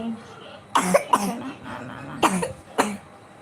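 Several harsh coughs come in short bursts, a pair early then two more spaced apart, close by and fairly loud over a quiet room.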